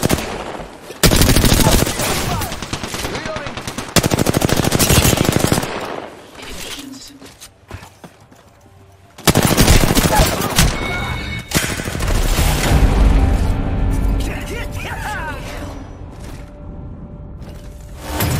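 Gunfire during an Apex Legends ranked Arenas match: repeated bursts of automatic fire and single shots, loud and close, coming in dense volleys with short lulls, mixed with game effects and occasional faint voice lines.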